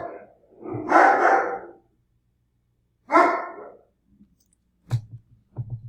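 Dogs barking at someone by the front door of a home: a long burst of barks and growly yaps up close, a shorter bark volley after a pause, then several sharp single barks toward the end.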